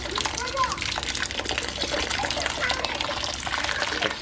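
Water gushes and splashes into the grain mash inside a Grainfather G40 brewing system, a steady close pouring wash with someone talking over it.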